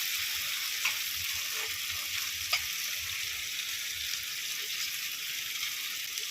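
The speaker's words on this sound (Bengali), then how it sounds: "হালকা ভেজে নেবো লাউ আর এই সজনে ডাঁটাগুলো" Pieces of bottle gourd and drumstick pods sizzle in oil in a frying pan, a steady close hiss with occasional small pops and stirring clicks, no talking.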